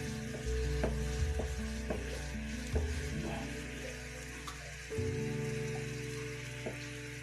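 Ground rice being stirred into hot sugar syrup for leftover-rice halwa, a steady soft sizzle with occasional scraping strokes of a spoon against the pan, close and continuous with no talking.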